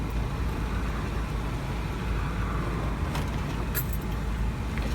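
Heard from inside a moving bus on a bumpy road, a low engine rumble runs throughout, with brief rattles and jangles near the end.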